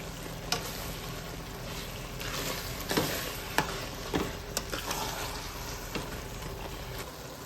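Onion seeni sambal being stirred as it fries in a pan, with a steady sizzle broken by scraping spoon strokes and a few sharper clacks against the pan, close up and with no talk.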